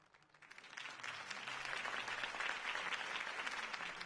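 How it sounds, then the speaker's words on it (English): Crowd applause in the video game Batman: The Telltale Series swells from quiet to a full, steady roar of clapping, sounding somewhat distant and processed. "could have heard that applause"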